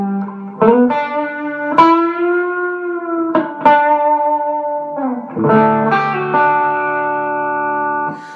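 Ibanez RG655 Prestige electric guitar on its bridge pickup through a delay set toward reverb, playing several sustained, ringing chords and notes with plucked attacks and a smeared, echoing tail, fairly loud with no talking.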